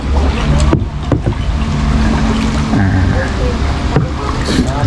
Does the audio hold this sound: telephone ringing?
no